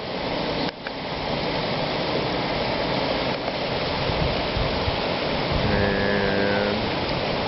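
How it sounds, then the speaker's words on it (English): A dual waterfall and flowing river water at Desert Harbor lake in Peoria, Arizona, give a steady, dense rushing wash that fills the whole scene, with a faint mechanical hum entering near the end. "Kind of a dual waterfall. One there, one there. See the water flowing from up the river a little ways."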